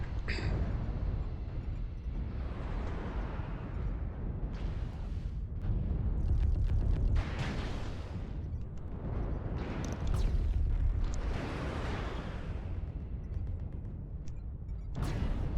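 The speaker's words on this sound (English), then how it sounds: "Artillery strike online." Rolling video game artillery strike explosions, a continuous heavy rumble with repeated deep booms and bursts swelling and fading over several seconds, loud and dense, with no voices over it.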